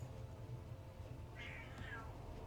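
A cat meows once in a video game, a short, clear mid-pitched call rising over a steady low background hum of game ambience.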